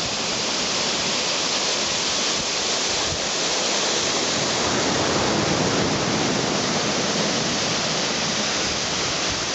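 Bucks Mill waterfall on the north Devon coast near Clovelly, pouring steadily as a loud, continuous broadband roar of falling water with no pauses throughout.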